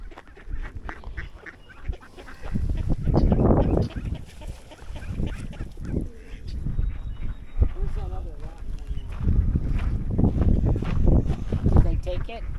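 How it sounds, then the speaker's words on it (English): Ducks quack and honk in a noisy cluster while being fed at a park, close and loud in repeated bursts, with people talking over and between the calls. "Yeah, some happy ducks."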